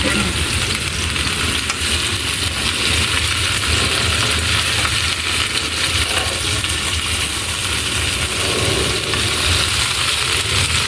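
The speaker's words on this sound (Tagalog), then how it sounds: "At ilagay na natin yung yung kangkong at saka alugbati." Kangkong and alugbati greens sautéing in a hot pan, a loud steady sizzle and crackle of frying that runs continuously without pause.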